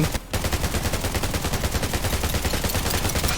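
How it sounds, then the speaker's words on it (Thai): Rapid automatic gunfire in the survival shooter Undawn, with dense, continuous loud bursts after a brief opening pause. "นี่มีคนขึ้นมายิงผมว่ะ"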